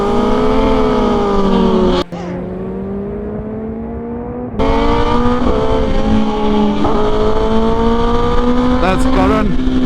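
A Kawasaki Ninja ZX10R sport bike cruises along the Mumbai expressway, its engine holding a steady, loud drone with rising pitch and a brief dip near two seconds, plus wind rush throughout.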